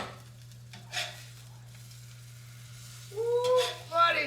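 A smash burger patty cooks in its own juices on a hot surface with a soft, steady sizzle, while someone speaks briefly over it near the end.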